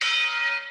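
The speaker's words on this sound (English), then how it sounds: "That's like a martial art bell as well." A martial arts bell rings once with a clear, bright strike and a sustained metallic tone that decays over under a second, heard alone.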